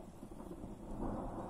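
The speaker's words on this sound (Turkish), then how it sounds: "Şu anda yine hava gürlüyor." A low, rumbling roll of distant thunder swells gradually and continues steadily, with no voices present.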